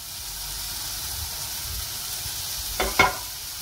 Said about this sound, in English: I'm gonna just put a knob of butter in the middle and I'm gonna leave it to melt a little bit